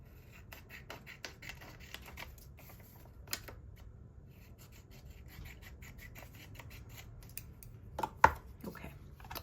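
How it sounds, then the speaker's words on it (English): Scissors snip out paper art prompt cards, giving quiet, close, irregular cutting and rustling with a sharper snip near the end and no voice. "Let me cut one of these out with my scissors."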